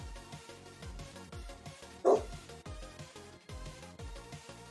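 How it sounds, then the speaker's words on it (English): A pet dog reacting to thunder lets out a single short, sharp bark that stands out over steady, rhythmic music playing in the background. "I would shut Cody up, but I love hearing him bark. I love his barks."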